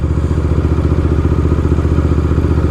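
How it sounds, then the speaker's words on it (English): A motorcycle fitted with an aftermarket-style exhaust burbles steadily up close, a loud, even, throbbing idle with a rhythmic low pulse and no talking over it. "I love this sound more than the Triumph one wheels and also the other retro motorcycles"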